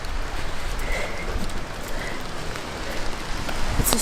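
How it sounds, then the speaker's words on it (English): Steady rain falls on a city street in Milan in winter, a close, even hiss of drops spattering pavement that continues without pause and with no one talking. "It's a super rainy day"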